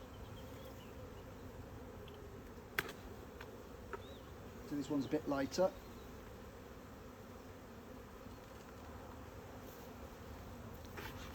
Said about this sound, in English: So this colony is absolutely rammed with bees.